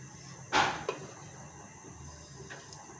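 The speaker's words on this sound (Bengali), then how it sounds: "ঢাকনা দিয়ে ঢেকে দেবো" A lid is set down on a cooking pot of tengra fish curry with a single quick clatter, followed by a fainter knock, against a quiet kitchen hum.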